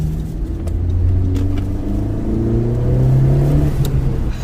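A car engine with a newly installed aftermarket intake revs and drones steadily up close, its low rumble swelling and easing over several seconds with no talk.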